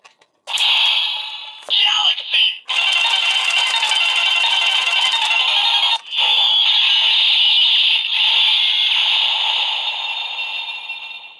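A loud electronic toy crossbow weapon, the Kyuranger DX Kyu The Weapon, blares continuously: bursts of buzzy, rattling synthetic tones that start, stutter briefly, then run steadily for several seconds.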